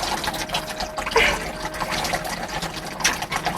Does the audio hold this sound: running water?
yes